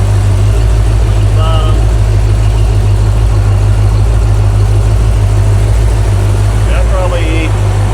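A rebuilt small-block Ford V8, a 289 or 302, idles steadily and loudly throughout after break-in, a constant low rumble with someone talking briefly over it.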